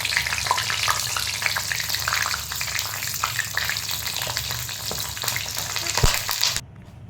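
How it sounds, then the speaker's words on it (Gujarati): Green chilies deep-fry in hot oil after a batch of fresh corn fritters, giving a dense, loud, bubbling sizzle with scattered crackles that cuts off abruptly near the end. "હવે છેલ્લા મરચાં તળી લેવાના."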